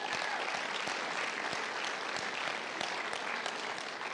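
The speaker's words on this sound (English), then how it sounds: "Let's give a round of applause to the seniors" A school audience claps for the graduating seniors at a scholarship awards ceremony, steady, dense applause from a crowd in a hall, moderately distant and continuing evenly throughout.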